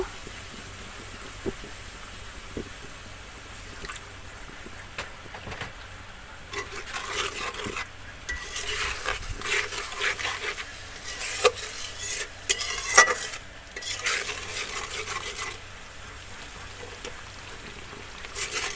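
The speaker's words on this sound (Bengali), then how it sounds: "মশলাটা আমি ভালো করে কষিয়ে নিব" A spice mix for beef liver bhuna sizzles softly in a pan with a little added water while a spoon scrapes and stirs it repeatedly, the sounds growing livelier midway and carrying on without talk.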